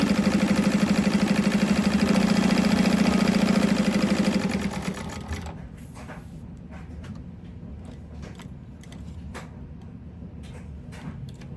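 A sewing machine stitching a fabric pocket runs in a fast, even, loud whir for about five seconds, then stops, leaving quiet room noise with a few faint clicks.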